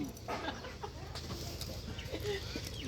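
Chickens clucking at close range with a few chirps from a chick among them. Short calls come in irregular bursts over a busy outdoor background, with some voices mixed in.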